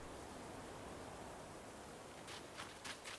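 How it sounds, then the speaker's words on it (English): A river flows steadily in the video game Animal Crossing, making a soft, even wash of noise like a white noise machine, quiet and continuous, with a few faint rustles near the end. "Every time I walk up next to the river, it sounds like a white noise machine."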